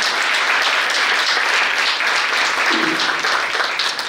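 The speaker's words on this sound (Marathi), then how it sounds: "आपल्या सर्वांकडनं या ग्रुपसाठी शुभेच्छा देण्यासाठी आपण टाळ्या वाजवणार आहोत एकदा" Audience applause for a music group after a Ram-stuti devotional programme, a dense steady clapping that fills the whole stretch at close range without pause.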